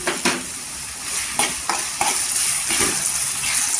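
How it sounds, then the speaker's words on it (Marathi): Two chopped onions fry in oil while being stirred, a steady close sizzle broken by repeated scraping strokes of a spoon across the pan. "कांदा पण ते सॉफ्ट करून घ्यायचं आहे गोल्डन कलरवर"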